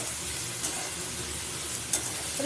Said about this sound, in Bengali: ভালো করে পেঁয়াজের চিচিঙ্গাটা নাড়াচাড়া করে নেব একটু